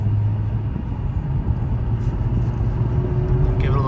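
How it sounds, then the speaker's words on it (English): A deep, throaty exhaust rumble from a 2016 Jaguar F-Type R in dynamic mode with the exhaust open fills the car interior, steady and loud, with a faint rising whine near the end. "Now in dynamic mode with the exhaust open, get a really nice throaty sound coming through in the cabin."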